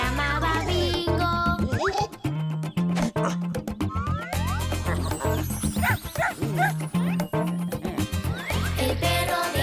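Dog barks in a Spanish-language children's song about a farmer's dog, set against bouncy music with a steady bass beat and sung vocals; short yapping barks recur throughout the tune.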